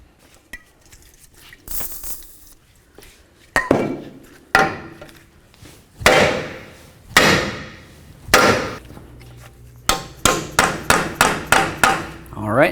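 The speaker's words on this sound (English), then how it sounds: "If you find that you need to use a hammer to pound this through, make sure that you put your nut on there." A hammer pounds on a front lower control arm joint of a 2007–2012 Dodge Caliber to drive it free: scattered sharp metallic strikes, then a fast run of about ten ringing blows, loud and close.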